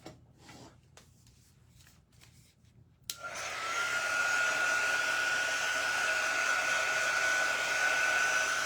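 A hair dryer switches on abruptly and runs steadily with a loud, even whine and rushing air, drying freshly painted primitive stacked boxes after a few seconds of quiet rustling.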